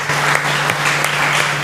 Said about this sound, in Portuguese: Aplauda Ele aí